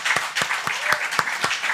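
A church congregation at a Christmas worship service claps in thanks, a brief burst of rhythmic, fairly even applause with regular hand claps close by.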